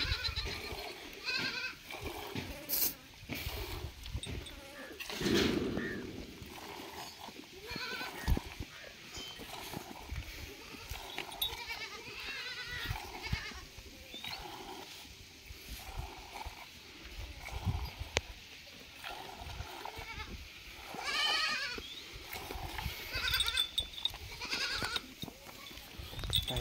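Goats bleat repeatedly at intervals while being milked by hand, with hooves shuffling and knocking around them in a busy outdoor farm scene, the calls moderately close.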